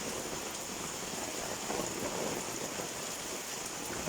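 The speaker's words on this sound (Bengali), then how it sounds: "প্রচণ্ড বৃষ্টি হইতেছে" Heavy rain pours steadily during a flood in a village in Noakhali, a dense even wash of falling water with no voices, heard faint and at a distance.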